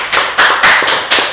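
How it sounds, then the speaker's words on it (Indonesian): An audience gives applause for Bombar Group at a community waste-cleanup event in Mataram, heard as a handful of loud, sharp, close claps spaced unevenly with no talk. "Tepuk tangan dulu nih buat Bombar Group nih."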